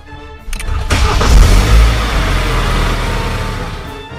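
A diesel car engine cranks and catches with a sharp start, then settles into a loud, close, clattering idle that runs steadily to the end, with a few clicks near the beginning and no talk over it.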